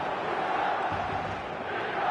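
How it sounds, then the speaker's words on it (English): Stadium crowd in a football video game, a steady, distant roar of massed fans with a brief swell of chanting mid-way, heard without any clear voices. "This crowd doesn't do ordinary, and we should be in for something very special."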